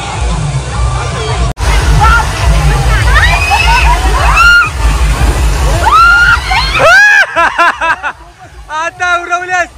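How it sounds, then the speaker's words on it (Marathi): Swimmers slosh and splash in a water park pool amid a lively crowd hubbub, with excited voices and shrieks carrying over continuous water noise and a louder burst of splashing and shouting near the end. "चला पाणी पोहायला आता."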